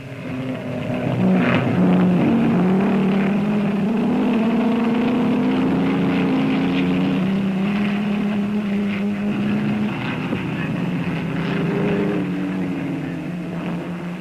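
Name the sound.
racing cars driving past the pits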